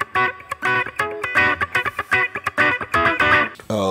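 A distorted electric guitar plays a choppy run of chords and notes, loud and saturated, with brief gaps between strummed bursts.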